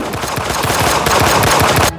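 Rapid gunfire in a comedy skit rattles out as a dense, loud burst of automatic shots lasting about two seconds, then cuts off abruptly.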